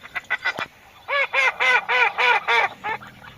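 Wild geese honk in a series of loud, harmonic calls close by during a hunt, a few quick honks then a rhythmic run of longer ones, with no talk.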